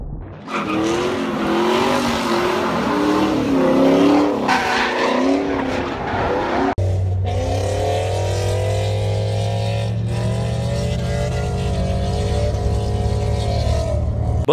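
A Chevrolet F-body car drifts with a loud, continuous engine roar that rises and falls with revs, then settles into a steadier drone with tire noise, close and sustained throughout.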